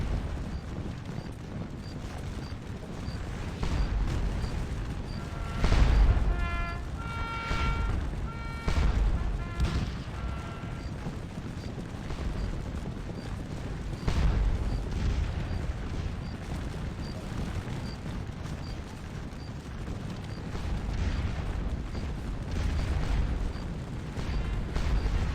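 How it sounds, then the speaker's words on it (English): Booming artillery fire rolls through a Napoleonic-era video game battle at Quatre Bras, with repeated heavy blasts and crackling gunfire layered over a continuous battlefield rumble. "The artillery has to keep firing."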